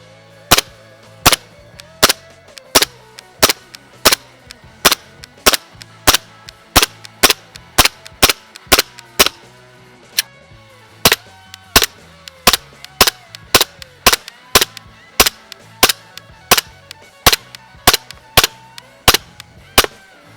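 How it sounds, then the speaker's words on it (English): Shots from an Umarex Glock 17 Gen 4 airsoft pistol running on green gas crack out one by one, about two a second for twenty seconds, sharp and close with short gaps and a brief pause near the middle. "So now I will be shooting this dry green gas, Glock 17 Gen 4."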